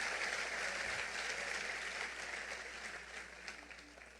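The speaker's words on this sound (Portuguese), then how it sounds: "Vamos aplaudir a Ele" A church congregation claps together during a worship service, a steady wash of applause heard from a distance that slowly thins over a few seconds.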